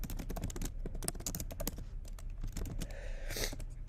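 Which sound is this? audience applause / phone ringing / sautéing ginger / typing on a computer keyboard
typing on a computer keyboard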